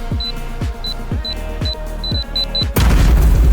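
During a bank robbery in the Roblox game Mad City, a bomb goes off with a sudden loud, broad blast near the end, after a run of rhythmic ticking beeps and repeating thumps from the game.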